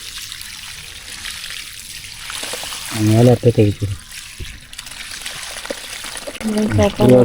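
Water is poured into the soil around a kachil (yam) plant, a steady trickling wash running through the clip beneath intermittent close talking.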